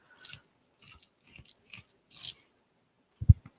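Close, quiet chewing of food with soft crunchy and wet bites in an irregular rhythm, ending in a louder thump, with no talk.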